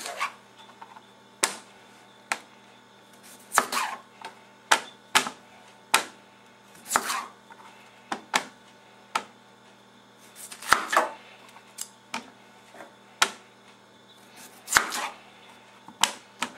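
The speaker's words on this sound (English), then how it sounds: "Then you just want to cut them in half." A knife slices red potatoes in half on a cutting board, giving a string of crisp, separate chops and thuds at an irregular pace over a quiet room background.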